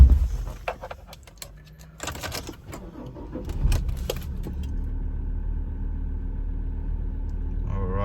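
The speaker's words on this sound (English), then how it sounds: "So inside the vehicle starts up nicely." A Ford Ranger Wildtrak pickup with about 115,000 km on it: some clunks and rattles inside the cab, then the engine cranks, catches and settles into a steady low idle that hums loudly and evenly to the end.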